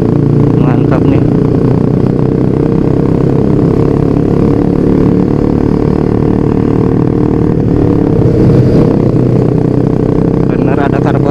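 A motorcycle on a group touring ride gives a loud, steady engine drone with wind rush that stays constant across the whole clip, while a voice talks over it.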